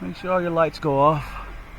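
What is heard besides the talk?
None of the usual background noises is heard.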